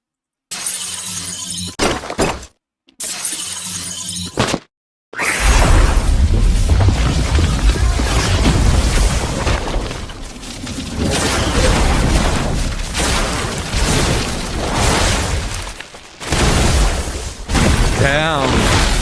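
Loud, chaotic fight sound effects from the anime Frieren: impacts with shattering glass and booming crashes, dense and continuous after a couple of brief opening bursts, with no music underneath.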